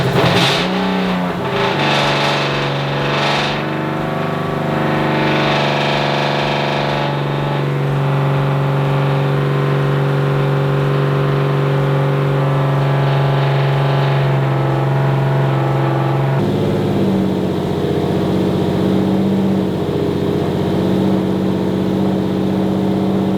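A Subaru STI engine runs loudly and steadily at idle while its OEM power steering system is bled, with a few brief revs near the start and a slight drop in pitch partway through.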